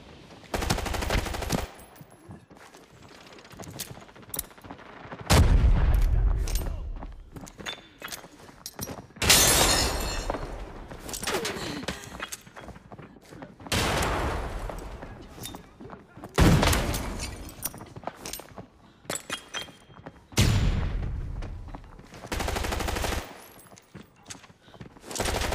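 Gunfire in the shooter game Arena Breakout, with loud bursts of automatic fire and single shots coming in waves, some close and harsh, others duller, with players talking over parts of it.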